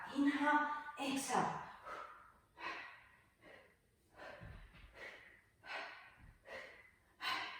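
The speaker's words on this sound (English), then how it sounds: "Make sure you're breathing in and out." A person exercising breathes in and out in steady, forceful, audible breaths, close and rhythmic, roughly ten breaths with short pauses.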